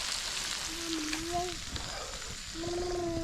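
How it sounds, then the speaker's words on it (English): Shrimp sizzle and crackle steadily in a hot pan, with faint tonal squeaks and kitchen sounds underneath. "And we still got shrimp frying over here."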